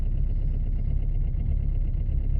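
A diesel engine idling after a cold winter start, giving a steady, loud, low-pitched throb close by with an even rhythm and no talking.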